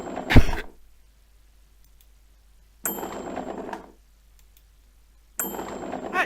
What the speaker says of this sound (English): Should we ring the bell?